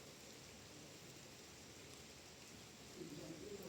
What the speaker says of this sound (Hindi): बड़ी प्यारी सुहानी हल्की हल्की बारिश हो रही है